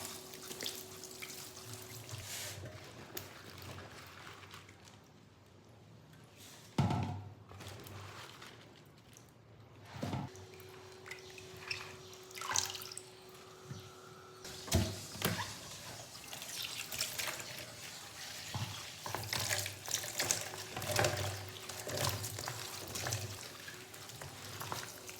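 Cut brinjal pieces washed under running tap water in a sink, a close splashing and trickling stream with pauses and bursts as the flow changes, punctuated by knocks of handling and no talking.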